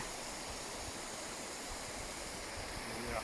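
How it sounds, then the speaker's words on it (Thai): Meltwater flows down past clear winter ice at a waterfall, a steady full rushing wash heard close, with no pauses from start to end. "อันนี้เป็นน้ำแข็งใสเลย น้ำไหลลงมา"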